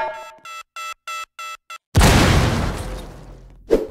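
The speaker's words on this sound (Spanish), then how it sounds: "Cuando este impacte contra el objetivo, saldrá disparado por una explosión." A Track glove explosion from the Roblox game Slap Battles erupts as a loud, sudden blast that rolls off into a long decaying rumble, following a series of short beeping tones and ending with a brief sharp pop.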